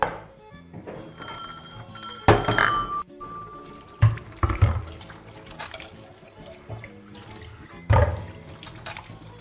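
Cooked French beans are drained in a kitchen sink, with water pouring and splashing, a few heavy clunks of a pot striking the basin, and small clinks spread through the running water.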